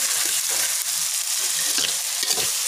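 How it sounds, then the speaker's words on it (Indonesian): Spice paste of ground shallot, garlic and chili frying in hot oil for Indonesian balado, a loud, continuous sizzle with occasional stirring scrapes, close to the microphone and with no talking. "Karena udah panas kita goreng bumbunya sampai harum."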